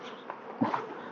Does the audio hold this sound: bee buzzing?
yes